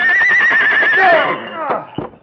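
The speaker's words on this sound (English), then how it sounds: "The big gray horse tried to slow his pace to pick his way more carefully" A big gray horse gives a loud, close, wavering whinny in a radio drama effect, followed by a couple of heavy hoof strikes on rocks as the sound fades.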